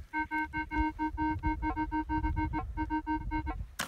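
A metal detector signals over a buried coin with a rapid series of short, evenly spaced electronic beeps, about two dozen pulses in quick rhythm, heard alone over faint low rumble.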